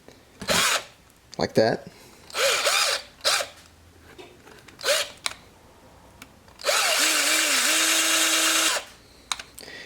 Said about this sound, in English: If the drill does catch the plastic, just pull it out, release it, and then go back in.